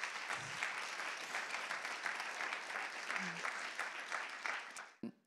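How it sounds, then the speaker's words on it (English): Steady crowd applause at a keynote event for two young girls, filling about five seconds at even strength before cutting off abruptly at the end. "Can we give a round of applause for Isla and Presley?"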